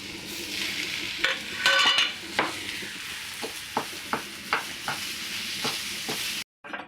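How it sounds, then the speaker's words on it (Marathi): Smashed potato vada filling being stirred and sautéed in a pan, with a steady sizzle under repeated spatula scrapes and taps, about a dozen distinct strokes, close and fairly loud, ending abruptly. "भाजी छान परतून झाली आहे"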